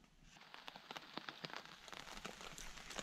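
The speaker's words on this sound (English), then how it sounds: "the canopy is covering us from the rain largely" Steady rain patters on a forest canopy and stretched tarps at a canoe-camping site, a dense close crackle of drops with sharper individual hits scattered throughout, no voices.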